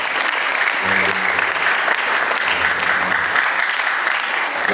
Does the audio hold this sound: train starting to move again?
no